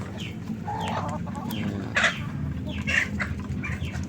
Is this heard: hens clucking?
yes